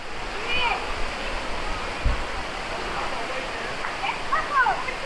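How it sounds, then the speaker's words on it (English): Aber Falls in Wales pours in a steady, broad rushing roar, with a few faint bird chirps over the constant water noise. "we've actually got to a waterfall"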